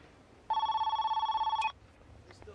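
A telephone rings in one steady electronic burst lasting just over a second, clear and close, before a home answering machine picks up; faint clicks follow.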